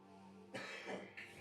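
A single raspy cough with a short follow-up, close and abrupt, against a faint background hum.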